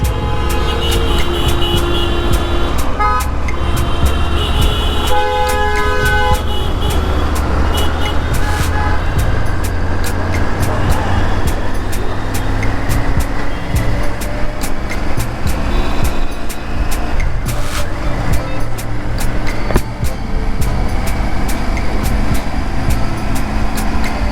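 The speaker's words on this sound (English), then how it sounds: "There's hell lot of traffic in Ahmedabad." Dense city traffic in Ahmedabad rumbles loudly and steadily, with engines and road noise filling the scene and short tonal bursts that suggest horns cutting through now and then.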